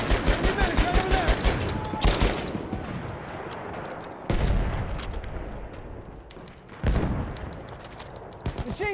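Machine gun fire in the World War I shooter Battlefield 1, with dense bursts of automatic shots and booming explosions layered together, while voices talk over the battle.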